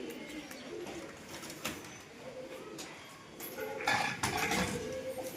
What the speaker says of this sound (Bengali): এই যে চারটে কবুতর ছাড়লাম এই চারটে কবুতরের সাথে নতুন কবুতরটাকে উড়াবো